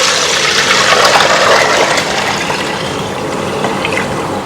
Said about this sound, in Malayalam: ഞാൻ ഇതിനകത്തേക്ക് ഒഴിക്കാം.